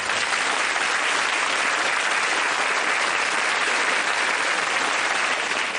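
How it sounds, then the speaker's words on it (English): Studio audience at a 1989 Bullseye game show breaks into loud, sustained applause, a dense wash of clapping that runs steadily for about six seconds with no talk over it. "Give them a nice round of applause."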